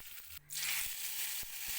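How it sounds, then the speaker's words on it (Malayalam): Mustard seeds and curry leaves drop into hot coconut oil for a tempering, bursting into a steady, close sizzle after a brief quiet start, with a few sharp pops from the seeds. "രണ്ട് ടീസ്പൂൺ വെളിച്ചെണ്ണ ഒഴിച്ചു കൊടുക്കാം ഒരു ടീസ്പൂൺ കടുക് ഇട്ട് കൊടുക്കുന്നുണ്ട് കറിവേപ്പിലകളും കൂടി ഇട്ട് കൊടുത്താൽ"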